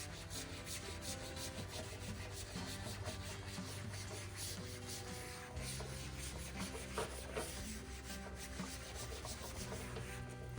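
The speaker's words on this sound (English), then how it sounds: "we'll go back with the SOS pad, which has some sort of Clorox mix in it, and just kind of scrub down the tire" An SOS steel wool pad with a bleach-style cleanser scrubs a Harley-Davidson Heritage Softail motorcycle tire, a steady, continuous rubbing and scouring that holds up close and unbroken throughout, with no talking.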